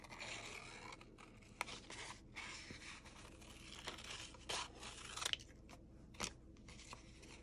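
Sharp scissors snip and slice through paper up close, giving soft crisp cuts and rustles spaced irregularly at a low level against a steady background hiss.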